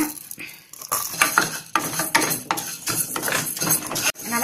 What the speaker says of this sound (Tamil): இப்போ பாசிப்பருப்பு வந்து கொஞ்சம் வறுக்கலாம்